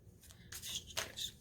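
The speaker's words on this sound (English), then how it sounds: "These cards nicely shuffled." Soft, close riffle of tarot cards being shuffled in a few quick bursts, quiet and without talk.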